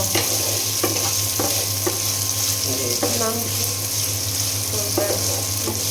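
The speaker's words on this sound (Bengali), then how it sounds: "আর পেঁয়াজ কুচি তেলের সঙ্গে খুব ভালো করে ভেজে নেব" Chopped onions frying in oil in a pan alongside cardamom, a continuous loud sizzle with intermittent stirring scrapes and clinks over a steady hum.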